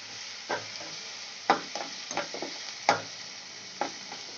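Onion and tomato sizzle in a pan while a spoon stirs and scrapes in several distinct, close strokes over a steady soft frying hiss.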